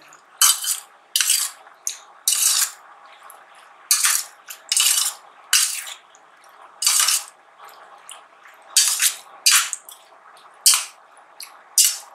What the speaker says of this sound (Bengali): একটু আখের গুড় দিয়ে দিলাম, দিয়ে একটা চামচি দিয়ে ভালো করে মিশিয়ে দিই